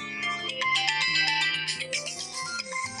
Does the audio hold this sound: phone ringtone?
yes